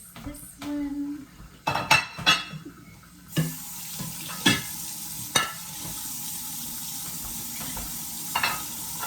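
Dishes and cutlery clatter during plating in a kitchen, with scattered sharp clinks and knocks over a steady background of running water and faint frying.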